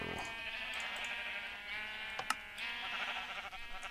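Sheep bleat in a farm-building video game, several overlapping calls over a steady background music bed, with no one talking.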